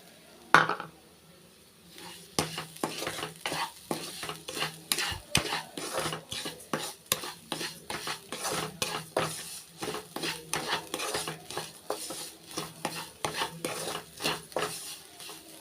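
Grated coconut sautéed with sugar in a pan for a banana sweet, a long run of quick rhythmic spoon scrapes and clinks against the pan over a faint sizzle, close and with no talking.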